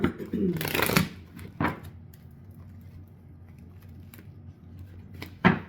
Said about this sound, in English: just heard one more shuffle